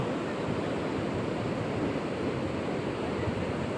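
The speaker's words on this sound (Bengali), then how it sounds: "বিশাল সমুদ্র" Surf at Cox's Bazar beach near Sugandha Point: an unbroken wash of crashing waves mixed with wind, heard close and steady for a few seconds.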